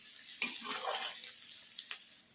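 Chopped onions fry in a pan until lightly golden for a dhaba-style spinach chana dal, giving a soft, steady sizzle with a few quiet stirring scrapes and clinks against the pan.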